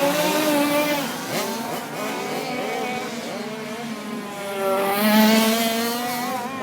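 Several 100cc Open racing karts screaming at very high revs during a state titles race meeting, engine notes rising and falling as they pass, loud and continuous with pitch sweeps and no talk.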